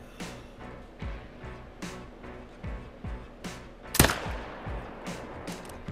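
Gunshots in the hunting video game Call of the Wild, a series of sharp evenly spaced cracks, with one louder, heavier blast standing out among them.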